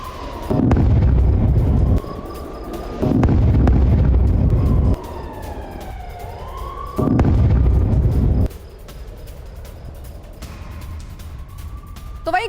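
Three heavy bomb blasts near a hospital in Gaza roll out at intervals, loud and rumbling, with a wailing siren rising and falling between them.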